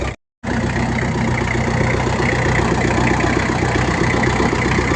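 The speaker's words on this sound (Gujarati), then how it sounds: "21 સાલે ટ્રેક્ટર ચાલુ થઈ જાય." A thirty-year-old farm tractor idles after starting, its engine a steady, close, even rumble that runs throughout after a short gap at the start.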